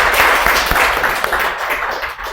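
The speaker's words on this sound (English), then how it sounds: "So there must be a big round of applause for you all." A brief round of applause from an audience after a group presentation: dense, steady clapping with no talk over it.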